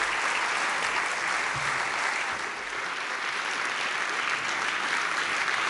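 Sustained audience applause at the Reporters Without Borders Press Freedom Awards ceremony, a dense, steady wash of many hands clapping throughout, fairly loud and continuous with no pauses.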